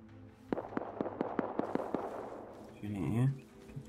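Rapid gunfire in the survival game Rust, about a dozen sharp evenly spaced shots over roughly two seconds, followed by a louder swelling whoosh, with no speech over it.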